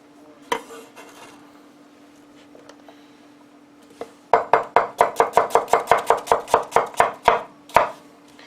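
A knife chops small onions on a cutting board, first a few scattered cuts, then a quick, steady run of about fifteen crisp, close knocks.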